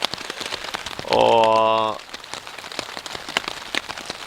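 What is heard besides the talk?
rain falling on a tarp while camping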